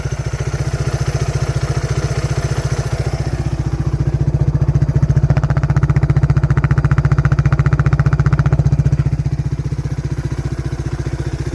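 A 1987 Suzuki SP 200 dual-sport motorcycle engine idles nearby with a steady, rapid thumping pulse that swells slightly, then settles, with no talking.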